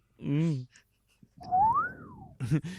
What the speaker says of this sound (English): Yeah, Swanee whistle.